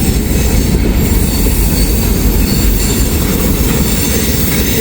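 A train thunders through Hamilton on a rainy morning, a loud continuous rumble of rolling railcars with rhythmic wheel clatter and occasional squeal, close by and steady throughout with no voices.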